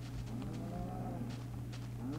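Cows in a Minecraft-style crafting game give several drawn-out low moos one after another, close and clear over a steady electronic hum.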